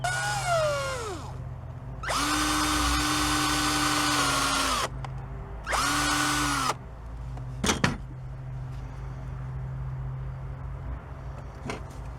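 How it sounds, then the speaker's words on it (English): Nails being cut into small pins with a power tool in a forge workshop: two sustained high-pitched grinding bursts of about three seconds and one second, each with a rising whine at the start, then a few short clanks, with no talking. "Cut some little pins from some nails."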